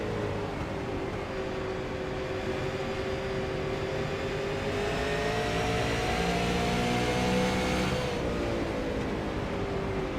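A damaged race car engine drones at Nashville's track after a crash in a Fleet Supers race, its steady whirring tone wavering and shifting pitch as the car circles, loud and continuous with no talk.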